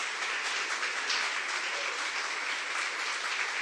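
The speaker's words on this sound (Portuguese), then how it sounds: "Dá um aplauso. Quero saber se você está alegre através do teu aplauso." Steady applause from a church congregation during a worship service fills the space evenly, a dense wash of many hands clapping at constant loudness throughout, with no talking over it.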